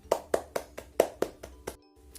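Eight or so quick hand claps in a steady rhythm from a class, fairly faint and close, ending in a short silence.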